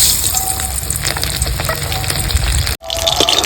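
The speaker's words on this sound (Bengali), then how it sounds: "তেল গরম হয়ে গেছে, দিয়ে দেবো লবণ হলুদ মেখে রাখা রুই মাছটা।" Rohu fish sizzles steadily in hot mustard oil, a loud continuous crackle and spatter with one brief dropout near the end.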